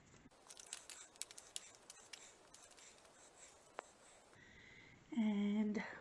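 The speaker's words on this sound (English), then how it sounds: "So let's give our prompt cards a shuffle." A stack of paper prompt cards being shuffled by hand at a tabletop, giving quiet, close rustling and soft flicking taps in a steady run, ending with a short louder scrape.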